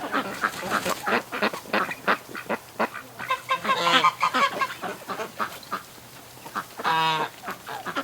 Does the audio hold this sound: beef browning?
no